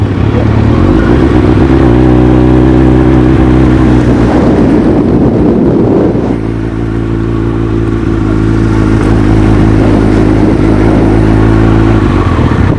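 A car engine idles and revs at a drag race start line at the Maxton Mile, a loud, close, rumbling drone with a brief throttle blip mid-way and wind buffeting the microphone.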